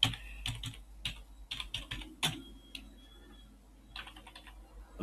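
Computer keyboard typing in the Spacemacs editor, short bursts of quick close key clicks separated by brief pauses, with no talking.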